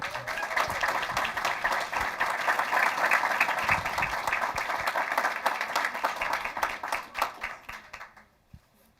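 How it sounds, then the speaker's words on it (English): Applause from the audience at a school board business meeting, a sustained room-filling burst of many hands clapping that thins into a few scattered claps and fades out near the end. "Should I do the old please hold your applause till they're all done?"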